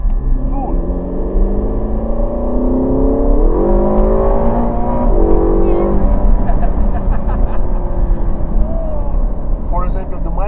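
Ferrari California T engine revving up under full throttle, a loud rising mechanical roar with climbing harmonics that settles into a sustained drone, heard up close with someone speaking over it.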